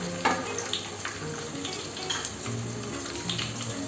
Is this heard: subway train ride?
no